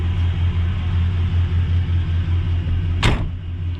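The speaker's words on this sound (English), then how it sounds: "Door shuts just fine." A door on a 1999 Chevrolet Silverado K1500 4x4 pickup slams shut once, a single sharp thud near the end, over a steady low engine or road rumble.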